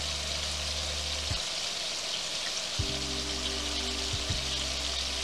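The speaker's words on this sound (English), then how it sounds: "Add the sherry wine to it. Let that cook." Garlic shrimp sizzle steadily in a hot pan as sherry wine goes in, a constant hissing fry with a low hum underneath and no voices.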